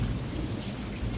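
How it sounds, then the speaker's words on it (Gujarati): A thunderstorm pours heavy rain in a dense, continuous hiss while deep thunder rumbles underneath. It is loud and unbroken, with no voices. "વીજળી છે ને વરસાદ છે"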